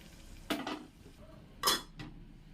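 A lid set onto a pot of black chickpea curry right after the tempering is poured in, giving a couple of sharp metallic clanks with a softer clink between them, close by and otherwise quiet.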